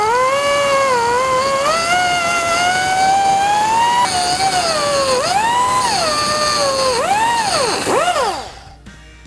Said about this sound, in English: now we got enough of this material ground off here using the cutting wheel